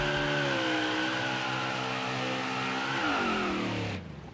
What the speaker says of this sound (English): Now we're burning her down